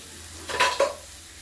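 Fatty meat cooking in a pan, two short scraping stirs of a utensil against the pan over a faint background sizzle, each lasting a fraction of a second.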